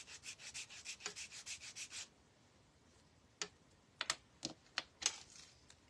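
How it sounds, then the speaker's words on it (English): Wooden trim pieces are sanded by hand: a quick run of rapid, even rubbing strokes, then a pause and a few separate scrapes. The sound is close and fairly quiet, with no voices. "I'm just going to sand them down"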